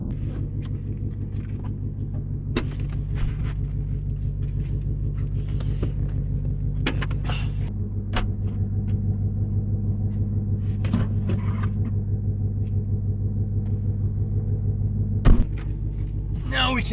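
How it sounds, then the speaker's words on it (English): Inside the cabin of a 2024 Ford Mustang Dark Horse, the V8 exhaust drones as a steady low rumble under the ride, with intentional exhaust leaks letting it in, and brief clicks and knocks on top. Voices are present, lightly mixed in. "Now we can hear that American V8"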